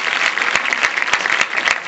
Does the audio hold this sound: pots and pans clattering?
no